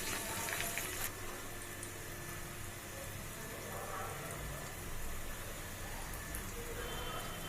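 Urad dal, curry leaves, garlic and dried red chillies frying in hot oil give off a steady, fine crackling sizzle, moderately quiet and continuous, with a louder spitting burst near the start.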